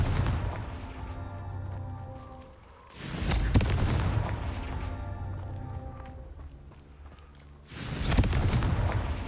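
Two heavy explosive blasts from Confringo spells in the Hogwarts Legacy video game, each a loud booming burst that swells and lingers, spaced a few seconds apart over a steady low game background.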